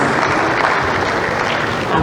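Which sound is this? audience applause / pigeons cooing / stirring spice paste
audience applause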